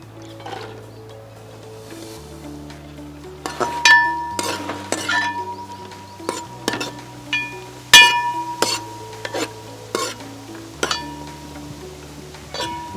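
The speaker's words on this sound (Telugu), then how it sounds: "సో ఫస్ట్ బీన్స్ తీసుకోవాలి, ఎందుకంటే బీన్స్ కొంచెం హార్డ్గా ఉంటాయి, సార్ అందుకని ఫస్ట్ బీన్స్ వేయించుకోవాలి." Metal spoon clinks and scrapes against a pan as beans are fried and stirred for a millet biryani, with repeated sharp taps and scraping strokes at an irregular rhythm, close by, over a low steady hum.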